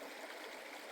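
A river stream flows steadily at an Appalachian Trail crossing, a continuous broad rushing and gurgling wash of water heard close and alone.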